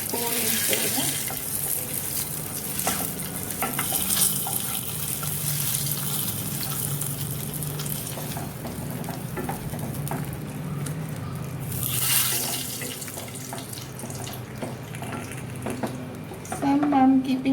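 Water poured into a pan of Kerala-style dry prawn curry with red chilies and curry leaves, a steady splashing rush with faint sizzling underneath, running close and continuous, lifting briefly near the end.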